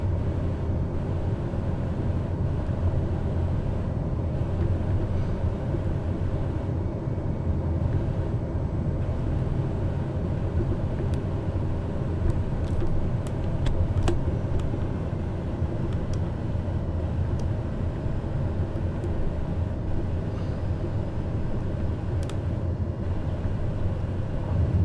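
Turboprop drone of a TBM 930 in a flight simulator game, a steady broadband engine and airflow roar during landing rollout, continuous and loud with no talk.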